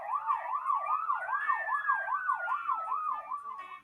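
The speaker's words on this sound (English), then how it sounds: "Then Pete turns on the sirens and lights. The sirens blare." A fire truck siren effect wails in a fast rising-and-falling yelp, joined by a second sweeping tone midway, clear and isolated with no talking.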